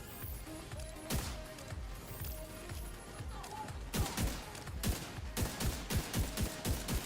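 Gunfire in The Division 2, a shooter video game: dense bursts of shots, thickening into a rapid, regular volley in the second half, with a voice talking at times underneath.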